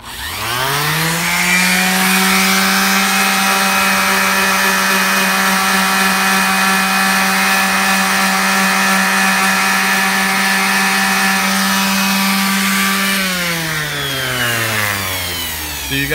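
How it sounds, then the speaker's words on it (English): A palm sander smooths corroded aluminum with 220 or 320 grit during a bus home build. Its loud, steady motor whine runs close and alone for about twelve seconds after a rising start, then winds down. "I'm just gonna hit it with my palm sander."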